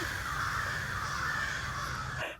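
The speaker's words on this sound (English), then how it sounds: "We had like a little bit of a bird attack." Crows keep up continuous harsh cawing that sounds fairly near, a steady raucous chorus that runs unbroken for about two seconds before cutting off, with no voices.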